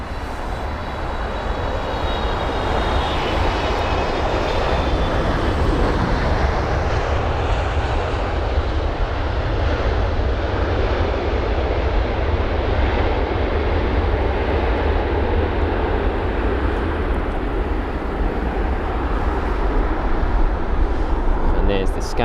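A Boeing 777-300ER lands at London Heathrow, a long steady engine roar and rumble holding for over twenty seconds, loud and unbroken.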